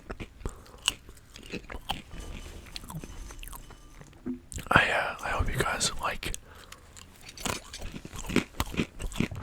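Close, crunchy chewing of a snack mix of soft cookie, popcorn and hard pretzels, with irregular bites and crackles heard alongside soft whispering.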